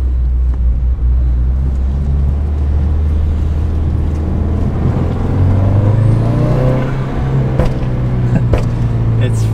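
A car running a crackle burble exhaust tune from Phatbotti Tuning cruises with a loud, steady engine drone, and a few sharp exhaust pops break through near the end.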